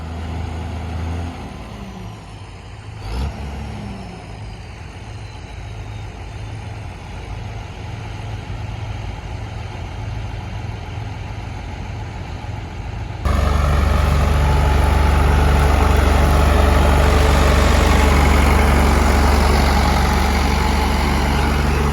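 Two tractor engines rumble and idle nearby on a farm, a steady low drone that suddenly grows louder and rougher partway through as the machinery works harder.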